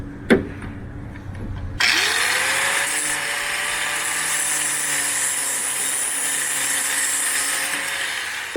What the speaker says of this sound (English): when you run your saw and nick this up,